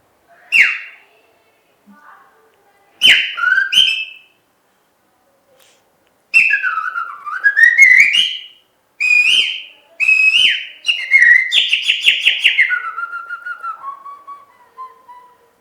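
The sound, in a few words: whistled bird call imitation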